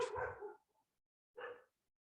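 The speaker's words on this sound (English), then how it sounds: "I'm sorry about these dogs." Dogs bark indoors nearby, two separate woofs with a short silence between them, fairly loud and alone.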